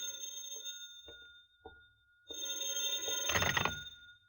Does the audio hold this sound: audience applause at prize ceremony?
no